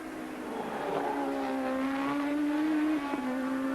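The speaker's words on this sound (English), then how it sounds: "Watch for the red and white McLaren." 1982 Formula 1 racing cars at Brands Hatch during the British Grand Prix, with a sustained high engine whine rising and holding as a car passes, steady and fairly near.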